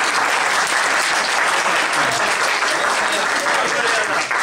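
Dense, sustained applause from a large audience at a Hindi comedy poetry gathering, loud and steady throughout with crowd noise mixed in.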